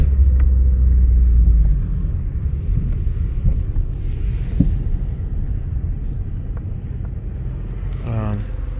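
A 2000 Mazda 626 with a 2.0-liter engine and a transmission pressure control solenoid fault driving on a road, its low interior engine and road rumble steady throughout, with someone talking now and then.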